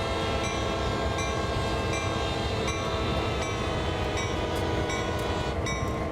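A freight locomotive horn blares continuously when held down in Train Sim World 2 on Sand Patch Grade, a loud steady chord over heavy rolling rumble and rhythmic wheel clicks, with no talking.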